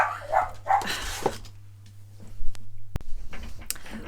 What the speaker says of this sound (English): Sorry, that's Oscar barking